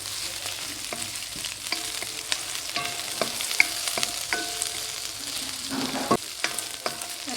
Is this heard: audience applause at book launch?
no